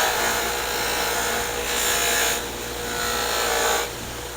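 Straight wood carving tool honed on its back, a steady continuous rubbing and scraping stroke with slight swells in level, close and alone.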